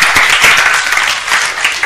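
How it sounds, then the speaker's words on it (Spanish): Brief burst of audience applause for a participant named Mario at a talk on homeopathy, a loud, close, even patter of many hands lasting under two seconds. "Un aplauso para Mario porque ha aceptado la respuesta."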